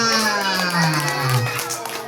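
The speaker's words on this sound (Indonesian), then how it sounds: "tepuk tangan buat Mbak Talita" A group of children cheer, shout and clap for Talita at a lively indoor session, a dense, close burst of voices and hand claps over a low drifting tone.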